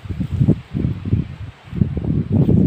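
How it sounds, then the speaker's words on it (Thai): Strong gusty wind blows outdoors in an open field during kite flying, producing loud low buffeting rumbles against the microphone that surge and ease in waves throughout. "อุ้ยลมแรงครับลมแรง"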